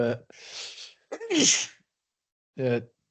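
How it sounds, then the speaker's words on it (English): Two sharp, loud sneezes, one a drawn-out breathy burst, with brief bits of voice before and after. "stop your sneezing, stop your sneezing on air there"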